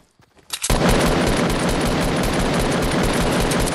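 Rapid gunfire in Fortnite Battle Royale, a sudden loud sustained burst of continuous shots that erupts after a quiet moment and keeps going dense and close with no voices.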